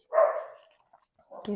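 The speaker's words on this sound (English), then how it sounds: "Apologies if you can hear my dog barking" A dog gives a single bark in the background indoors, followed shortly by a person starting to talk.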